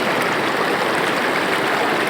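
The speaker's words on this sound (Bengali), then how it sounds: "এই শব্দটা মূলত হচ্ছে পানি ভরার শব্দ। প্রবল বেগে পানি পড়তেছে।" Water gushing forcefully at an eroding riverbank in the Monpura area of Bhola, a loud, steady roar of rushing flow that fills the whole stretch without any break.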